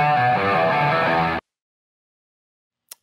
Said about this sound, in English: take a song with a very unique and signature guitar sound